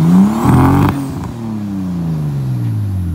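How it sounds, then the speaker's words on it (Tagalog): Nissan Skyline R33 engine revved hard, a loud close roar that climbs then drops away as the revs fall and settle into a lower drone. "Rev it!"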